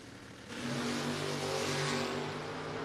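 A No-Box 660 drag racing car launches down the strip. After a half-second lull, a broad engine roar swells in and holds strong for about two seconds before easing slightly, heard at a distance.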